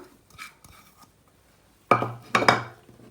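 A spoon clinks and scrapes against a bowl while kabab ingredients are mixed, with a few faint taps first and then two louder, close clattering strokes.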